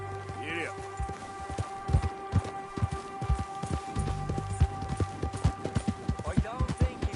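Horse hooves galloping in a PS4 video game, rapid rhythmic clip-clop beats running close and steady alongside other game sounds, with a brief whinny-like call.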